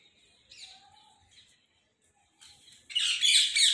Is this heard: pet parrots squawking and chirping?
yes